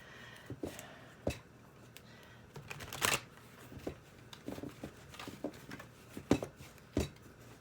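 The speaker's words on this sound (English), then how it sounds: "we're going to go ahead and shuffle these cards" Tarot cards are shuffled and handled in quick irregular bursts of papery riffles and taps, close and fairly quiet, with no one speaking.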